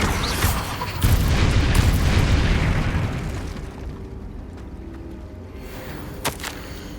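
Bombarda spell in the Hogwarts Legacy video game sets off a loud, booming explosion, then a long rumbling decay with a couple of sharp cracks near the end.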